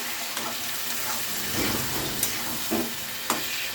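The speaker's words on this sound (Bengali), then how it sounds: "এটা আমি আবার কষে নিচ্ছি ভালো করে আর একটু সামান্য জল দেবো" Cabbage curry masala with fish head fries in a pan with a little water, giving a dense, close sizzle and hiss with a few soft stirring scrapes.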